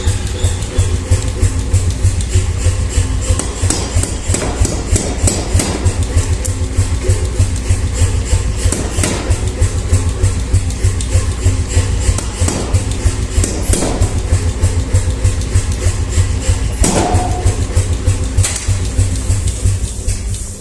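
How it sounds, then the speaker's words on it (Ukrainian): A power hammer forging hot metal leaves rumbles steadily with a dense, continuous low drone, punctuated by occasional sharper metallic impacts standing out from the noise. "Я його пробив під молотом, щоб було швидше."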